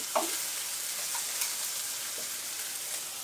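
Sliced mushrooms soften in a pan over reduced heat, giving a continuous even hiss of frying. A few light spatula taps and stirs sound close by, and no one speaks.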